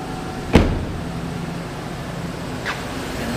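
The 5.3 liter Vortec V8 of a used 2013 Chevrolet Silverado pickup idling smoothly at close range, a steady low hum broken by a sharp knock early on and a faint brief sound later, with no talk.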